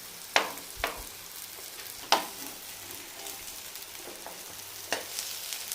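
Rava-coated brinjal slices frying in oil on a tava, a faint, steady sizzle broken by a few soft clacks of a spatula, quiet and close with no talking.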